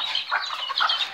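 Hen clucking on a small home farm with other animals kept, a short burst of close, fairly loud bird calls.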